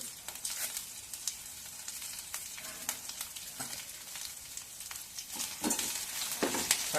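Green chillies and curry leaves fry in hot oil with a steady, close crackling sizzle, broken by sharper pops and stirring scrapes toward the end; nobody speaks.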